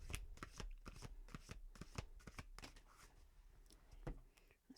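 Tarot cards shuffled close up: a quick run of crisp riffling clicks and snaps in irregular bursts, fairly quiet, with no talking.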